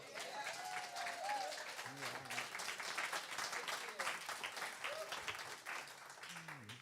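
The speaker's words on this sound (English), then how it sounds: "Can we give Steve another round of applause" A church congregation at a Sunday celebration gives a sustained round of applause, many hands clapping together in a continuous patter, with scattered voices and a brief call breaking through.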